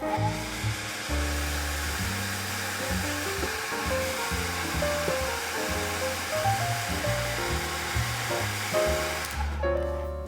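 Hair dryer blowing over a watercolor pencil painting, a continuous close airy roar with a steady motor hum that runs for about nine seconds and then cuts off, no voices.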